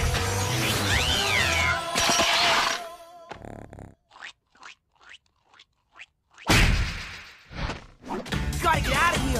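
A cartoon cat from the Yin Yang Yo! series lets out warbling, sliding meows amid cartoon sound effects, with a run of short separated plinks in the middle before louder cries return.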